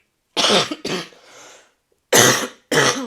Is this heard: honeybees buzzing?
no